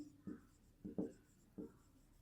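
A pen writing on paper while a maths solution is worked out, four short scratchy strokes at close range, clear and fairly quiet against a near-silent background.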